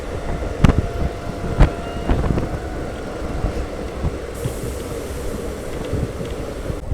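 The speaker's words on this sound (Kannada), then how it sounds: "ಸ್ಪೀಡ್ ನೋಡಿ, ಸ್ಟೇಷನ್ ದಾಟಿದ ತಕ್ಷಣ ಸ್ಪೀಡ್ ಹೋಗ್ತಾ ಇದೆ ನಮ್ಮ ಟ್ರೈನ್" A Ballari–Davanagere DEMU train runs at speed just after leaving a station, its onboard rumble steady beneath wind buffeting, with sharp clanks and rattles of the carriage recurring throughout.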